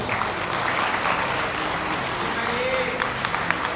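An audience at a political party induction event applauds, a dense, continuous wash of clapping that holds steady throughout at moderate distance.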